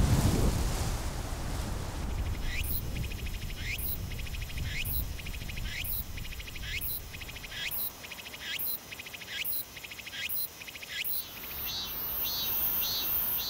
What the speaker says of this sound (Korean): 매미가 여름 내 세상 시끄럽게 울어대는 이유는 암컷을 유인하기 위해서입니다